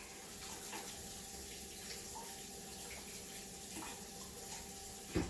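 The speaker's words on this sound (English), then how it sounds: "I'm going to take all this over to the sink. I'm going to get that running and clean later." A sink tap runs steadily with a continuous broadband rush of water, fairly quiet and close, holding an even level throughout with a brief louder splash at the very end.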